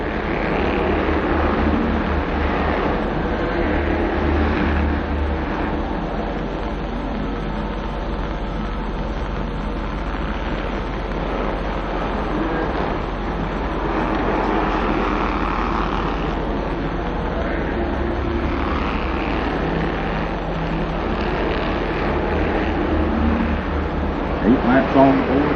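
Bandolero race cars circling Southern National Motorsports Park: steady distant engine drone under continuous race commentary from a trackside announcer.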